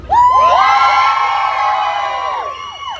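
A crowd at a pin-up girl contest during a ranch rumble event cheers loudly for a contestant, a burst of high whoops and shouts that swells then tapers off over about three seconds.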